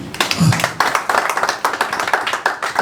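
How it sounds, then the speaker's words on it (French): A church congregation applauding, a dense burst of many hands clapping at a quick steady rhythm, close and fairly loud, with a brief voice at the start. "Est-ce qu'on peut acclamer le Seigneur?"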